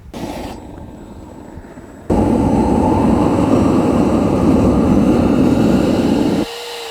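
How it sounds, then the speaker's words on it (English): A propane-powered thrust device on a Fallout Super Sledge replica roars into a steady, loud jet-like rush once the thrust kicks in, holding at full force for several seconds before cutting back. "Propane's on, thrust is on."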